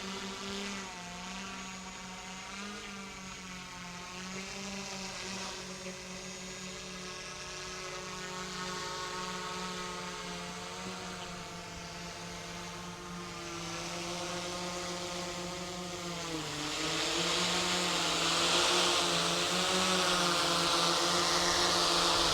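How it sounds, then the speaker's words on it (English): Drone flying back in and landing, a continuous close whirring rotor drone with steady tonal bands that rise and shift in pitch as it descends, growing louder toward the end, with no voices. "And I'll land the drone."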